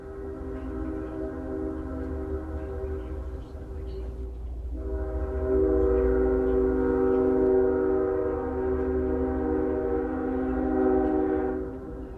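A long, loud multi-tone train horn blares as a sound effect, holding steady for about four seconds, breaking off briefly, then sounding again in a sustained blast for about six seconds over a low rumble.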